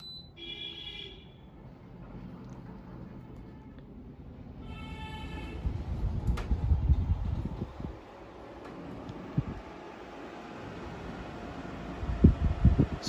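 A Haier 1.6-ton heavy-duty air conditioner, about a year old and noisy, gives electronic beeps as it starts, then a steady fan hum that grows louder, with a few knocks and clicks nearby.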